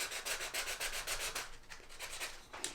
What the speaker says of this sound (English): we can sand around the edge here. I've got some sandpaper. I've got a sanding block.